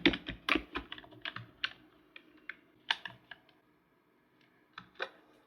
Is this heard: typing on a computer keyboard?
yes